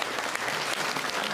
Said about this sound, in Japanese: みんな、つーちゃんに拍手だ